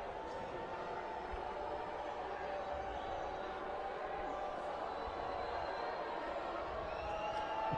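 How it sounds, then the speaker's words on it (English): Crowd in a judo arena at a 2009 Rio de Janeiro event growing restless, a dense, steady roar of many voices filling the hall at a distance. "The crowd beginning to get worked up about something"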